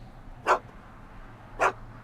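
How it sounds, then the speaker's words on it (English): A dog in a Back to the Future video game gives two short sharp barks about a second apart, clear and close over a quiet low background with no speech. "Why couldn't Doc have invented a dog translator?"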